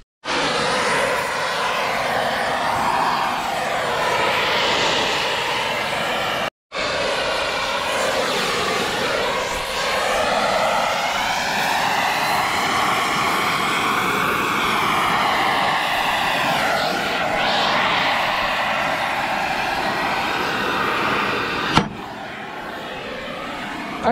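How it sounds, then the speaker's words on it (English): A gas torch roars steadily as it heats the bearing inner race on a Caterpillar 735 off-road haul truck wheel, a loud continuous hiss and rumble with two brief breaks. "We'll just keep moving the torch around steadily around it"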